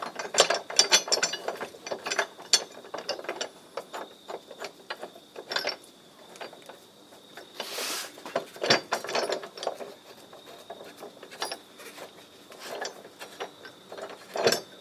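A ratchet wrench runs down tow hitch receiver bolts on a 2004 Volvo XC70, giving steady rapid clicking up close in irregular bursts with a brief louder rasp partway through.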